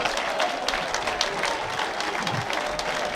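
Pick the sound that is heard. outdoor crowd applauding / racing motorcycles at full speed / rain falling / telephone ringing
outdoor crowd applauding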